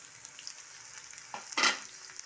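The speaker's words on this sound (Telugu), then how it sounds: "ఉల్లిపాయ ముక్కలు వేసేసి ఒక నిమిషం వేయించుకుందాం బాగా" Chopped onion pieces fry in a pan with a soft, steady sizzle, then a brief louder hiss and clatter as they are stirred.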